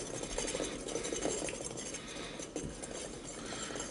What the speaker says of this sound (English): Don't have a whisk, got an electric mixer.